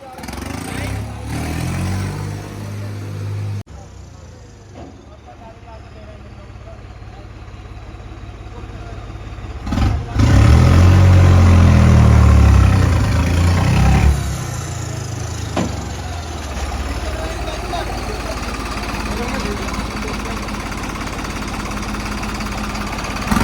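A New Holland 3630 Special Edition tractor engine runs steadily for the whole stretch, with a low rumble that grows louder and rougher near the middle before settling to a steady drone. A voice is heard over it.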